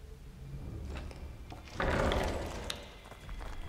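A wooden door creaks and thuds open in a Call of Duty WWII scene, a short scrape followed by a louder swell of movement, heard faintly with no talk over it.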